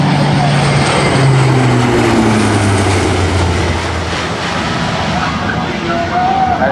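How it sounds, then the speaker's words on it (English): A large C-130J four-engine turboprop transport roars past at an airshow while banking in a high-G minimum radius turn, giving a loud, steady engine drone with shifting pitch as it sweeps around. An announcer talks throughout. "You're going to roll it up on its side and pull that aircraft around in a high G minimum radius turn."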